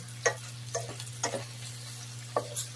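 Shrimp sautéing with onion and garlic in a pan for shrimp with oyster sauce, a soft steady sizzle with a low hum beneath and occasional scraping stirs at irregular intervals.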